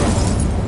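A fire spell cast in Hogwarts Legacy gives a loud, dense whooshing roar. It stays steady and close through its whole short length, with nothing else heard.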